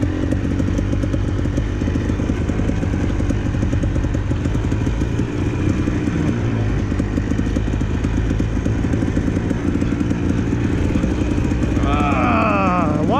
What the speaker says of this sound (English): The carburetor's actually making crackly sounds